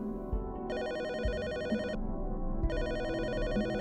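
A telephone rings in an apartment in a video game, two bursts of electronic trilling bell tone separated by a short pause, steady and prominent with faint background thumps.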